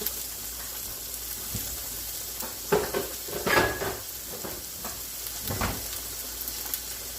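Sofrito sizzling in a big pot for a yellow split pea chowder with smoked meat, a soft steady frying hiss with occasional stirring scrapes and clinks, close and moderately quiet.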